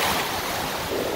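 Waves wash in at a crowded beach on a hot day with warm water, a steady surf rush mixed with wind buffeting the microphone and no clear speech.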